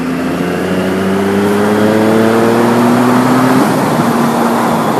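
A Triumph motorcycle engine revs loudly and close, the pitch climbing steadily then dropping back briefly before holding a strong, continuous drone.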